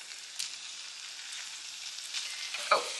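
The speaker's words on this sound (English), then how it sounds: "They're going to sizzle a little bit." Bay scallops sizzle in a hot pan with a steady bright frying hiss, close up, with a few louder spits and pops near the end and no talking.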